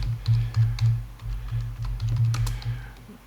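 Steady typing on a computer keyboard while entering a name in building design software: brisk, close clicks in uneven bursts with short pauses, clear and alone.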